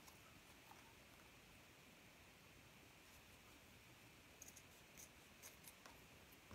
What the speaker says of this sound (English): These are some dull scissors